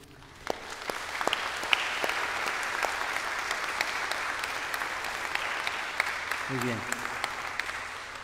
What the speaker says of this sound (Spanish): démosle un aplauso a estos niños